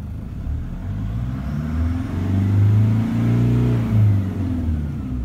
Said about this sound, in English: Have a listen to this engine. It's beautiful.